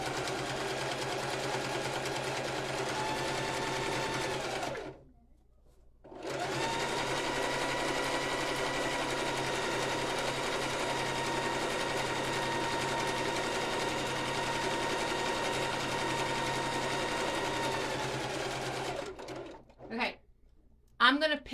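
A sewing machine stitching a fabric water bottle holder runs in a steady, close, continuous whir, pauses briefly, then resumes for a long run before stopping, with a voice talking near the end.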